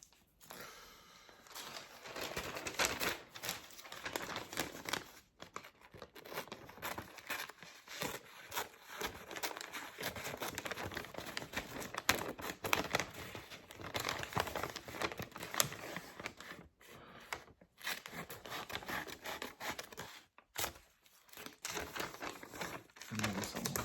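Scissors cut out paper coupons in a close, quiet ASMR setting, giving repeated soft snips and paper crinkles in an uneven rhythm with brief pauses.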